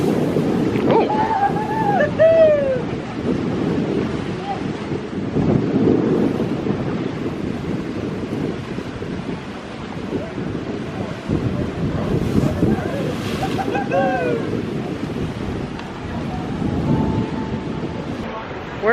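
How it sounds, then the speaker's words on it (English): Wind buffets and waves surge and splash around an ocean blowhole on a rocky coast of Curacao, with rushing bursts recurring across the span, while voices call out excitedly over the roar. "I want to show you this this blowhole here."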